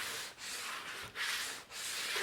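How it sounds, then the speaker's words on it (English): Steady rasping scrape of a plastic scraper pulling excess wax off a ski base, three long close strokes separated by brief pauses, with no talking. "as you scrape off the excess wax, the ski looks dull"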